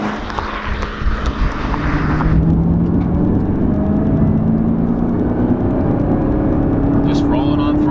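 A supercharged 2019 Camaro ZL1 1LE engine revs up steadily under load, its rising drone and whine filling the cabin, with a person talking over it at the start.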